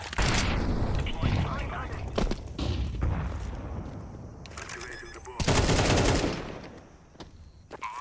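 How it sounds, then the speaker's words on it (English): In a Counter-Strike match on the Ancient map, a grenade blast booms among loud bursts of rapid gunfire, with heavy rolling explosions swelling and fading while a player talks over the action. "Grenade."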